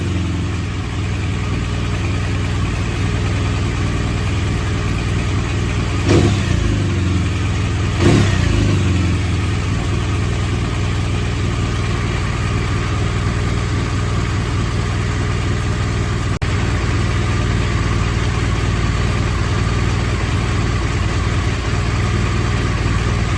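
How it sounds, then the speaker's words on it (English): A motorcycle engine starts and settles into a steady, loud idle, a continuous low rumble with a couple of brief revs early on and no talk over it. "Let's start up the bike."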